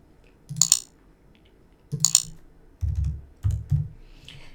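Numbers being typed on a computer keyboard, heard as a few close bursts of sharp key clicks and thuds, spaced out and separated by short pauses, with no talking.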